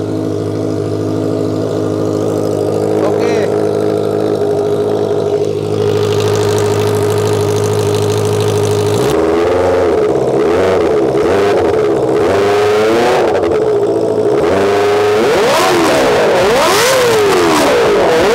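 Kawasaki Ninja ZX25R motorcycle with a custom exhaust, idling steadily then starting to rev hard in repeated rising and falling bursts, loud and close with no talking.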